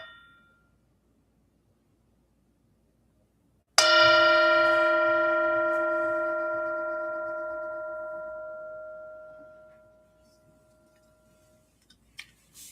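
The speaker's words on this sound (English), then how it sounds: "Enjoy the sound of the bell." A single bell is struck once at a mindfulness service after a stretch of near silence, giving a clear, bright ring that fades slowly over about six seconds, with a few faint clicks afterward.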